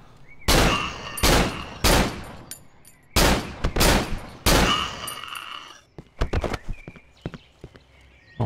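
Loud bursts of gunfire in the horror video game Cry of Fear, several heavy, separated shots with ringing tails, followed by a rapid cluster of quicker, sharper reports.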